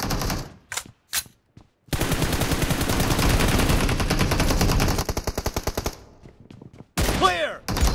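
Rapid automatic gunfire from a PUBG Mobile team deathmatch, a few isolated shots and then a long, loud sustained burst of machine-gun fire that breaks into separate rounds before stopping, with another short burst at the end.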